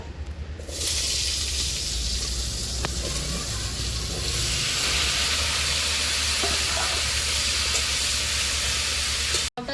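Chunks of bottle gourd sizzle steadily in a wok still hot from frying prawns, a broad, continuous hiss with faint clinks of stirring throughout.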